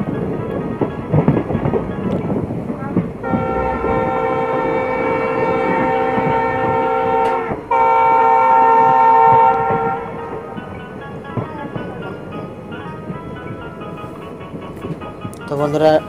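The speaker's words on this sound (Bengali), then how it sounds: "ট্রেন এখন স্টেশন থেকে বেরিয়ে পড়েছে প্রায়।" A passenger train pulls out of Dharmanagar railway station in North Tripura, its loud horn sounding in long sustained blasts over the rumble of wagons, with people talking nearby.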